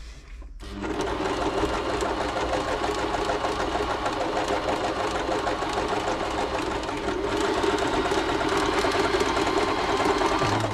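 A Bernette b35 sewing machine, on the bench for servicing, runs continuously and stitches with a rapid, even mechanical chatter, loud and close, starting after a brief pause and holding steady to the end.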